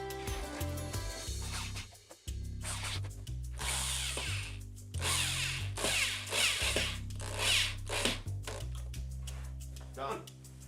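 A power drill drives fasteners into the boards of a simple five-board wooden garden bench, with repeated short whirring bursts and ratcheting clicks between pauses, close and fairly loud, while people talk.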